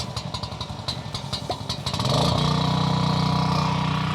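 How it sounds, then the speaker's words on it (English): A Power Joe SJG4100LP-TV1 portable propane generator is cranked with a pull cord in rhythmic, clattering pulls, then fires up about halfway through and runs in a loud, steady hum up close. "Give the pull cord a swift pull."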